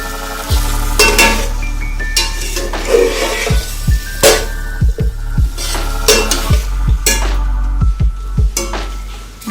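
Chicken pieces frying in ghee in a pan, loud and close, with a spoon stirring in repeated clinking, scraping strokes over a continuous sizzle.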